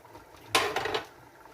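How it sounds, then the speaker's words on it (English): Carrots drop into a cooking pot of yellow split pea soup with smoked turkey tail, a single close clatter and brief rattle against the metal, then quiet. "We'll put in our carrots."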